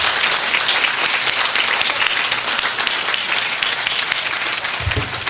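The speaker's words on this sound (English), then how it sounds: "This panel deserves another warm round of applause." Loud, sustained audience applause for a discussion panel at an event on the regulation of identities, dense clapping that keeps going for over five seconds, with a low thud near the end.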